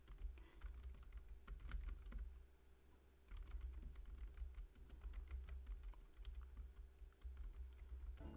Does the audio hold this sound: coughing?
no